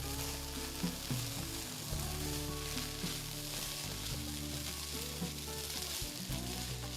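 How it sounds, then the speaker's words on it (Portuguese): Flour is stirred into a sizzling mixture in a frying pan, with a constant frying hiss and a low hum in the background. "Vou misturar bem até ela sumir."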